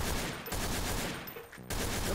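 Rapid gunfire bursts from the video game Trouble in Terrorist Town, loud and dense, cutting off briefly near the middle before resuming at full intensity.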